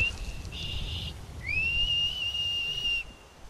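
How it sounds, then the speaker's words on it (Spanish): A horse-calling whistle in the video game Skyrim: two bright sustained whistled tones, a short flat one then a longer rising-and-holding one, clear over a low background rumble. "Practica el silbido del caballo."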